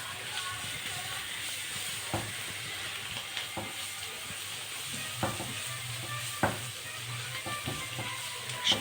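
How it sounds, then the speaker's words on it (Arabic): Spices toast with finely chopped onion, garlic and hot chili pepper in ghee, giving a soft steady sizzle with occasional sharp stirring clicks and scrapes of the spoon, fairly quiet and close. "وهننزل بالتوابل ديت تتحمص مع البصل والثوم وقرن الفلفل الحار"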